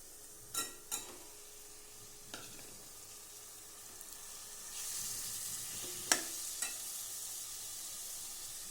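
Spiced chicken fries in a pan with a soft steady sizzle, and a few sharp scrapes and clinks of stirring come through clearly close by.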